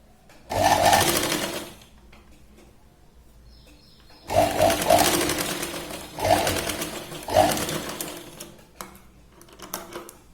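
An electric sewing machine stitches a katori blouse in several separate bursts, each a quick, even rattle of stitching lasting one to two seconds, with short quiet pauses between them, close by and alone.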